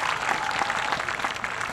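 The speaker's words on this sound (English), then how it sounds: "another round of applause" Audience applause at a bluegrass show after a song, a loud, close, continuous wash of many hands clapping with faint crowd murmur mixed in.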